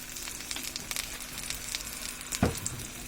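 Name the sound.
stirring garlic pickle with vinegar in a pan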